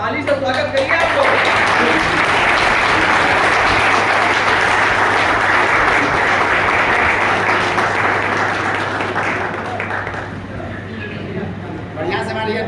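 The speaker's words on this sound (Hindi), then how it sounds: "ताली से स्वागत करिए आपको।" Sustained applause from an audience at a ceremony welcoming a guest, many hands clapping loudly and steadily before fading near the end, with voices and a low hum underneath.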